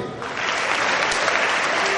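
Continuous crowd clapping at a university convocation, a full, even wash of many hands that swells slightly after a brief softer opening.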